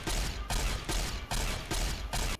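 Laser weapons firing in Fallout: New Vegas, heard as four loud sustained bursts of zapping fire, each about half a second long and split by short gaps, with no talk over them.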